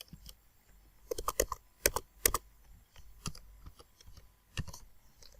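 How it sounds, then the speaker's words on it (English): Fingers type on a computer keyboard while entering data into an Excel spreadsheet, producing bursts of quick, crisp key clicks with short pauses between, close and clear against a quiet room. "I can simply press the F9 key on my keyboard, or I retype this number in"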